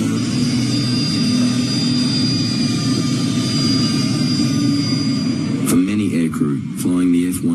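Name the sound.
F-111C jet aircraft engine with afterburners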